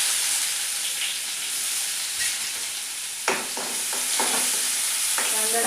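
Onion sautés in hot oil with mustard seeds, cumin and ginger-garlic paste for a Marathi matki rassa, a constant sizzling hiss broken by a sharp clatter and several scraping stirs of the spoon in the pan, with no talk.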